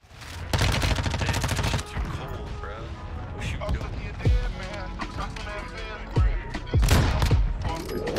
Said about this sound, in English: Got him with the wall bang.